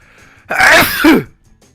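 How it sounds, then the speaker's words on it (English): A single loud, close sneeze lasting under a second, with a sharp burst of breath and a voiced tail, then quiet. "oh, I'm gonna sneeze"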